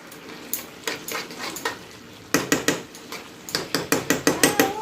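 A spoon stirs basanti polao, sweet yellow rice, with ghee in a pot, giving rhythmic scraping strokes that pick up pace and grow louder in the second half, with no voice.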